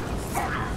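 A dog in the video game Far Cry 5 gives a short bark or yip, brief and moderately loud over a dense background of game noise.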